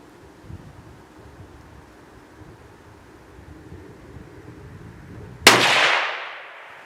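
A single sharp crack from a Marlin .22 Magnum (22 WMR) rifle at a shooting range, loud and close, with a short decaying tail after a stretch of quiet wind and handling noise.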